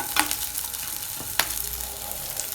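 Peeled ingredients for urad dal chutney sauté in a pan, a close, steady frying sizzle broken by a couple of quick stirring scrapes, no speech.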